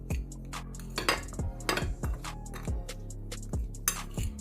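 A metal spoon scrapes and clinks against a bowl while stirring baingan masala stuffing, a quick irregular series of close, bright taps and scrapes.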